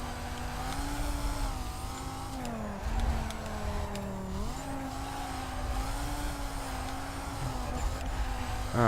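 Dodge Viper engine in a racing video game, a steady loud drone whose pitch rises and dips as the car drifts and slides around a street circuit, with faint tire scrub underneath and no talking.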